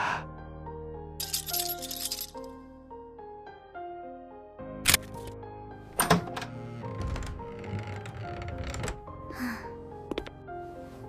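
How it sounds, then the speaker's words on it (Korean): A key rattles in the lock of a bedroom door and the door opens, giving a few sharp metallic clicks and thunks over steady background music, with no talking. "며느리가 열쇠로 제 방문을 열고 들어왔습니다"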